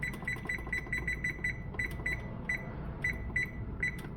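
An oven timer beeps in a home kitchen, a string of short, faint electronic chirps in irregular pairs and singles over a steady low hum.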